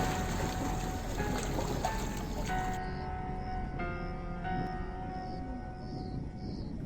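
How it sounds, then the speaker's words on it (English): A sudden, loud burst of splashing water as massive jaws lunge at an impala at the water's edge in the Serengeti, settling into a softer trickle over sustained musical tones. "Suddenly, an explosion of water."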